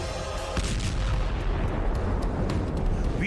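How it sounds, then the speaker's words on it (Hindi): A guided anti-tank missile strikes a tank in the war between Russia and Ukraine, giving a loud, sustained roar of blast and burning that fills the whole stretch without a pause and with no voices. "टैंक पर यूक्रेन की फौज एंटी टैंक गाइडेड मिसाइल से हमला करती है। टैंक में धमाके के बाद देखिए"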